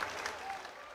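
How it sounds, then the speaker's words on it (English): Applause from the students and black belts of a Sanuces Ryu Jujutsu gathering, a dense, steady patter of clapping hands filling the room for about a second with a murmur of crowd underneath. "Round of applause one more time."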